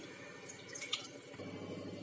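One and a half cups of water poured into a pan for sugar syrup, a quiet close splashing trickle that changes pitch partway as the pan fills, with no talk.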